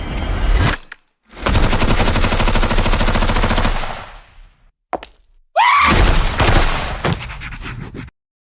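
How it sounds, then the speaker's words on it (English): Rifle gunfire in a Friday Night Funkin' mod video game, loud dense rapid automatic bursts in two long stretches with heavy game sound effects, no talk. "Stephanie summons a rifle, takes out Boyfriend, and a bunch of other people who are gathered around."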